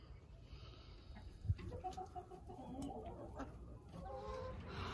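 Backyard chickens clucking in a chicken yard, several hens giving repeated soft clucks and calls at close range over steady outdoor background noise, with a brief thump early on.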